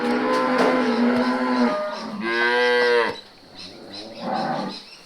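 Cattle on a bush property low loudly and repeatedly, several long drawn-out moos one after another, close and clear with no talking over them.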